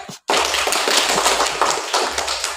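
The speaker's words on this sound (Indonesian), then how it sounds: "Kita kasih tepuk tangan dulu" A classroom of students claps hands together in a dense, continuous round of applause, loud and close, lasting a couple of seconds after a brief pause.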